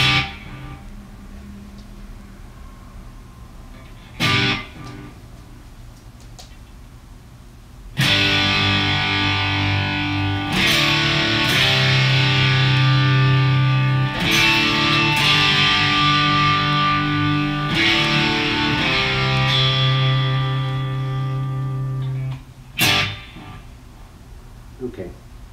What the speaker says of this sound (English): I keep this wet reverb on all the time. And then I put a tiny, tiny bit of delay, the smallest amount